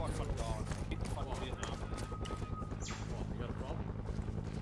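Footsteps in the military video game Arma, a steady run of rhythmic thuds close by over an ambient outdoor bed, with people talking over them.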